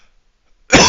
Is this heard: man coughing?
yes